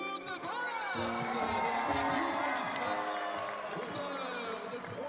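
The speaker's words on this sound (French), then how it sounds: "Je vous demande d'applaudir de nouveau très fort." Crowd applauding and cheering at a Belgian cycling event, the roar sustained and loud throughout with voices mixed into the din.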